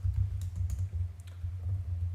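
Code is typed on a computer keyboard in quick, light key clicks, fairly faint over a steady low electrical hum.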